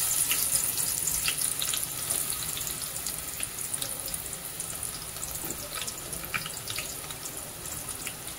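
Chopped onion sizzling in hot oil in a pot, the first step of tempering for a spicy Malvani-style crab curry, a steady bright hiss with scattered crackles close by and no talking.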